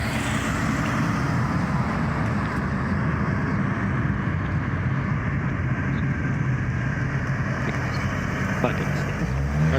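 A twin-engine CRX revving, a dense, sustained engine roar with a steady low drone and little variation, heard alone at a constant loud level throughout.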